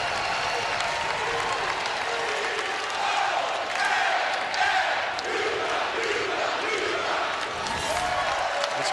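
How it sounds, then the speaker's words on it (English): A large crowd at a UConn men's college basketball game against Dayton at the Puerto Rico Tip-Off, mostly Husky fans, cheers and applauds loudly and steadily. The roar stays dense throughout, with faint voices mixed in. "This crowd coming alive, and it's mostly Husky faithful"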